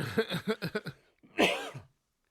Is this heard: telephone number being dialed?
no